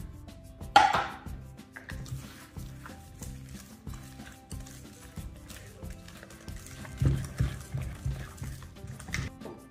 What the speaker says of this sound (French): j'ajoute ensuite le xylitol et je mélange à nouveau